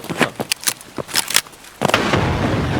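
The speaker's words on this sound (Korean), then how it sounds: "수류탄 계속 날라온다" A series of sharp, punchy grenade bursts in Escape From Tarkov, then a louder blast at the end with a sustained rumbling roar.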